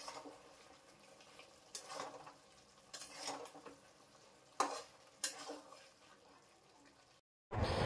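Goat head meat with chopped tomatoes and chilli is stirred and fried in a pan, giving irregular scraping bursts over a low sizzle, close and fairly quiet, with a brief cut to silence near the end.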